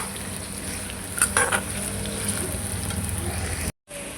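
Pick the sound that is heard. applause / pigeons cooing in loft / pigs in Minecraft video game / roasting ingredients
roasting ingredients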